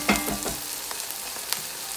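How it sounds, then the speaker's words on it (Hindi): Chicken with spinach and crushed fenugreek fries in a pan, giving a steady close sizzle with a few soft stirring scrapes and clicks, no talking. "उसको मैं ऐड करूँगी और इसको 1 से 2 मिनट भूनूंगी"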